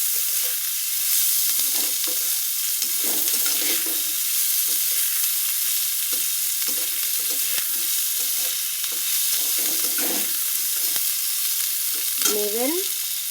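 Potatoes frying in a pan for an okra and potato curry, a steady loud sizzle with repeated scraping strokes of a spoon stirring them, close by and without any talk.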